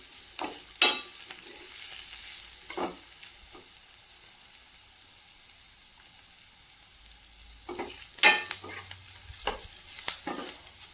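Onions fry in a pan toward golden brown, with a low, quiet sizzle under a few sharp clinks and scrapes of stirring that come in two separate clusters.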